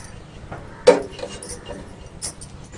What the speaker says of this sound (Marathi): ते पातेलं ठेवून घेते